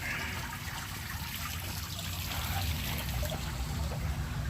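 Steady rushing water with a constant low roar and splashing texture, continuous and fairly near, with no voices.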